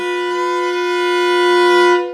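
Two bowed string notes sound together as a tritone, a steady sustained tone that swells slightly before cutting off.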